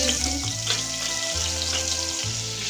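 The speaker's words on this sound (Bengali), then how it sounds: "এখানে আছে নুন হলুদ মাখানো মাছের মাথা এবার ছেড়ে দিচ্ছি তেলে" A salted, turmeric-coated fish head sizzles in hot oil, with a steady, close crackle of frying and no talk.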